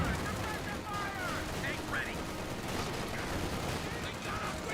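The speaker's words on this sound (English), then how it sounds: "NC-34 firing away against the riflemen" A machine gun fires on riflemen in Company of Heroes 2, a dense, steady battle din of continuous gunfire and bursts that fills the whole stretch, with a voice faintly present underneath.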